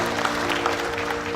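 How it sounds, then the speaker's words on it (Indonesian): A church congregation applauds during a revival miracle-night service, a brief burst of dense clapping over a steady musical drone. "tepuk tangan bagi Allah kita"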